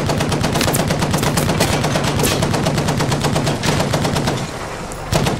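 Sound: machine gun fire in video game Battlefield V

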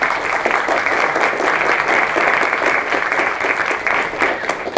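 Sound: audience applause welcoming a panel guest

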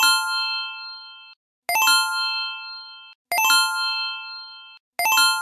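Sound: software dashboard notification chime

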